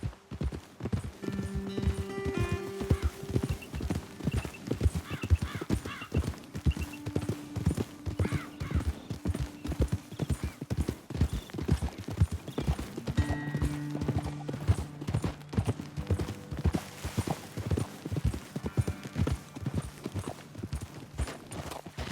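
Horse hooves clip-clop in a steady walking rhythm in the video game Red Dead Redemption 2, several horses close by, with a low tonal hum underneath and no talking.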